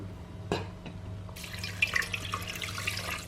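Cold water poured from a tap or vessel into a pressure cooker, a soft close splashing and trickle following a couple of light knocks, with a low hum underneath.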